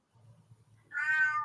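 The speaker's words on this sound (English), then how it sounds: "Wait, is that a cat? Yeah, it's a cat." A cat meows once, clear and fairly close, after a moment of low background hum.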